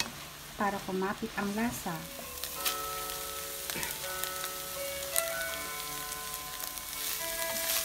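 Ground meat fries in a pan while chili powder is stirred in, a steady sizzle broken by scraping stir strokes, with a voice speaking briefly at the start.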